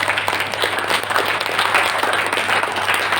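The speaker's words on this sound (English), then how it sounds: "Can we clap once?" An audience at an entrepreneurship workshop breaks into a dense burst of clapping that fills the whole short moment at steady loudness.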